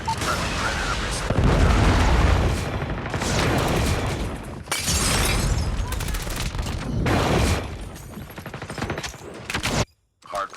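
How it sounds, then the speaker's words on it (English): Predator missile strike in a Call of Duty style multiplayer video game, heavy booming explosions and rumbling blasts mixed with rapid gunfire, loud and dense throughout, briefly cutting out near the end. "Friendly Predator missile"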